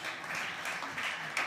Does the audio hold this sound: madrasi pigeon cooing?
no